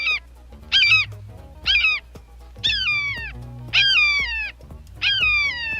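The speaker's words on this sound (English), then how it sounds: "That's the sound of falcon." A falcon gives six drawn-out, descending screaming calls with short pauses between them, loud and close, with no other sound.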